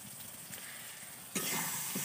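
Oil sizzles in a pan while a chicken dish is being cooked, a soft steady hiss that jumps to a louder crackling fry partway through, close and alone without talk.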